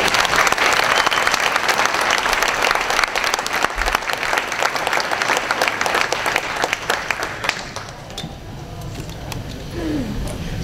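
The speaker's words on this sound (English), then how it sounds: "So how about a big round of applause for Bobby Lopez." A large audience at a live event gives loud, sustained applause for Bobby Lopez, a dense roar of clapping mixed with some cheering that thins and fades over the last few seconds.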